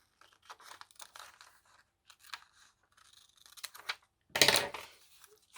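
Scissors cut around a paper doll printed on large sewing pattern paper in a series of quiet, close snips and crisp rustles, ending in a louder crunching cut and paper handling.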